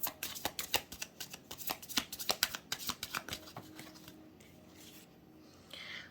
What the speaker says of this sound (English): let's get another shuffle